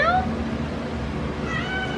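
Two short cat meows, one at the start and another near the end, sound fairly close over steady indoor background noise, with no talking.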